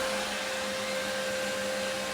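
A cooling fan spinning at 4,500 RPM on a KSO-PRO unit, giving a loud, constant close-up whir with a steady tonal hum and broadband air hiss and no change across the short stretch.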